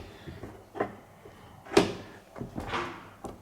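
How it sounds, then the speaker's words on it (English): The boot lid of a Mini Cooper is shut, giving a few knocks and one firm thud, followed by a second closing bump and some rustling nearby. "let me just shut this door"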